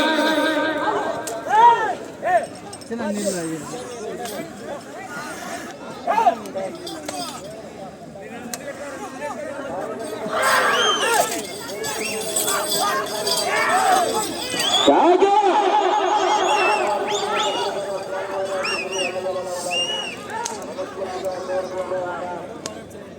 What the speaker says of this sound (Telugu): కేకలు విజిల్లు కేకలేస్తా చివరికి వెళ్ళిపోతాయి